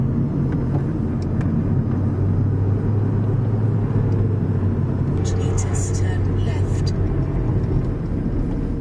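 A car driving on a road in the Bavarian Alps toward Lake Chiemsee, a steady low engine and tyre rumble heard from inside the cabin throughout, with a few faint higher clicks partway through.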